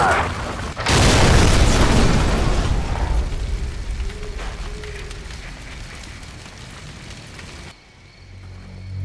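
Incoming missile strikes in Call of Duty 4: a sudden loud boom hits after a brief lull, then a long rumbling roar of debris slowly fades before cutting to quiet.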